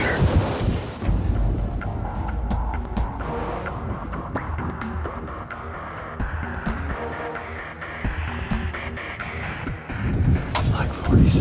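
Cold wind gusts across an outdoor deer-hunting stand, a steady broadband rush with louder bursts at the start and end, faint voices underneath.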